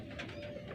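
A pigeon gives one short, soft coo, faint and alone, with no talking over it.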